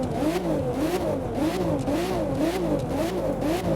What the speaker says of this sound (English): It's definitely not a bad engine noise for the game